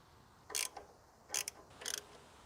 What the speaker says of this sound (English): Go ahead and get a 13mm socket and tighten down all 3 posts.